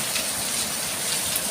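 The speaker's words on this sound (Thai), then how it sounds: "วันนี้ฝนตก" Rain falls steadily in a dense, even hiss, a faint and continuous wash with no voices.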